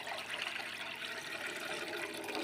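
Water pours steadily into a cooking pot being filled to boil macaroni, a continuous gushing splash with no pauses, fairly close and alone without any voices.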